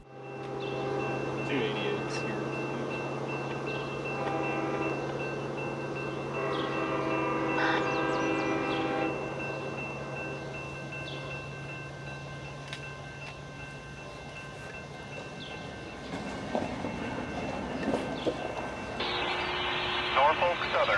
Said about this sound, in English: we hear the rumble of a northbound CSX